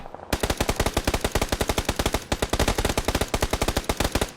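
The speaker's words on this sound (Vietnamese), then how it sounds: "cần đúng 40 viên đạn để DZ Chip có thể kết thúc được mạng của HQV trong tình huống sấy vừa rồi" Automatic weapon fire in a battle royale video game tournament, a loud rapid burst of dozens of evenly spaced shots sprayed continuously for about four seconds, with no talking.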